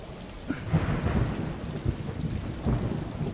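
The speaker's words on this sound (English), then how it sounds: "And even how they done the rain effects and such." Heavy rain pouring steadily while a low rumble of thunder rolls underneath, close and dense throughout the short stretch, from the video game Stray.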